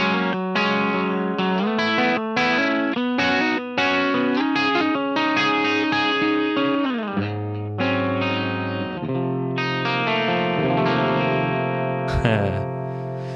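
Clean electric guitar tone played through a Boss ME-8 multi-effects unit in stereo, with continuous strummed chords and picked notes ringing out alone and fairly loud.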